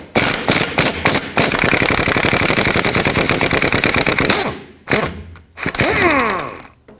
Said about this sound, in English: now you can remove the 2 15mm bolts that hold the bottom of the strut on